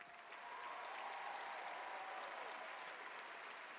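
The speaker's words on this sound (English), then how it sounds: "please, give a big applause" An audience claps continuously, a dense, even wash of applause that swells slightly after the first half second and holds steady.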